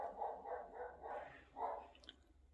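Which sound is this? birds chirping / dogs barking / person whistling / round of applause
dogs barking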